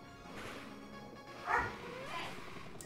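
A pet dog barks and yips while someone plays with it in another room, the sounds muffled and moderately distant, with one louder bark standing out among softer ones.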